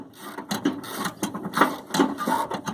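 A nut is spun down a bolt on an S10 Blazer battery mount, giving short, uneven metallic scraping and ratcheting bursts close to the microphone with no talking.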